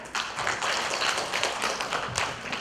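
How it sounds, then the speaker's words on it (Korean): Applause from an audience at a commemorative ceremony, a short, fairly quiet burst of clapping lasting a few seconds. "여러분 큰 박수 부탁드립니다."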